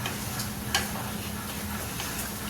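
Ridge gourd (torai) sabzi is stirred in a pan without water, giving a soft continuous sizzle with faint scraping ticks and one brief clack of the spoon.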